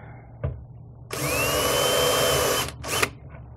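A power drill starts a hole for mounting an LED utility strip light, with a short tap, then a loud high whine of about a second and a half and a quick second burst near the end.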